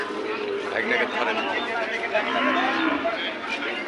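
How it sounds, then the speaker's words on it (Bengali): Sahiwal cattle on a farm give drawn-out moos close by, a continuous lowing that runs through the whole stretch alongside people talking nearby. "এই যে এটা একটা ভালো জাতের গরু মনে হচ্ছে"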